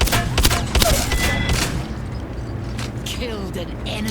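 Shotgun blasts in a shooter video game, booming shots early on followed by a dense mix of game effects and ongoing action, loud and close.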